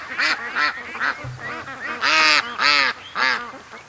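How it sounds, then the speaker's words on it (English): Ducks on a lake give a run of loud, close, nasal quacks, about nine calls in quick succession, some short and some drawn out, with no other sound between them. "Out here in the lake swimming with the ducks"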